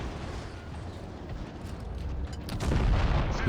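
A muffled artillery shell hit in the tank battle game WoT Blitz, a dull rumbling boom that swells toward the end over steady low engine-like noise.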